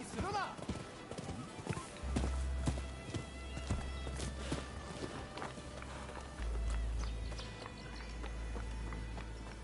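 Hooves of a horse galloping in an open-world video game set in Yokohama, a rapid steady clip-clop running under game music and someone talking over it throughout.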